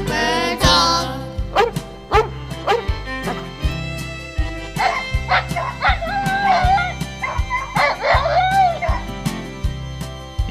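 A Louisiana Catahoula Leopard Dog gives several yips and short barks over a steady, rhythmic music bed, with some whimpering cries in between.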